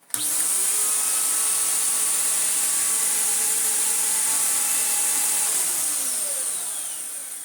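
Restored Electrolux The Boss bagless upright vacuum cleaner switching on and running, a loud high-pitched motor whine that spins up instantly and holds steady, easing slightly toward the end, close by with no talking.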